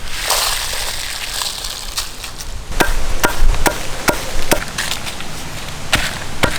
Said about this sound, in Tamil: வறுத்த வத்தல் மல்லியை அழகாக இடித்து எடுத்துக்கணுமுக்கா